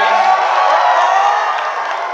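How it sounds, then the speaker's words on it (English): A crowd cheering and whooping for the parents at a 2v2 dance battle event, a loud sustained roar of voices that slowly fades. "Can we make some noise for the mom and dad?"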